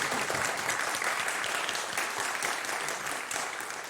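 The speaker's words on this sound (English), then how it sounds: "Yes, we can clap to that." A church congregation at a Sunday service applauding, a dense, steady round of clapping from many hands that fades slightly toward the end.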